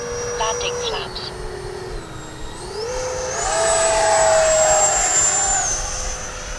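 An FMS Futura 80mm V3 RC electric ducted-fan jet whines loudly on its landing approach, its pitch stepping down and then climbing again as power is added, with a steady hiss of rushing air underneath.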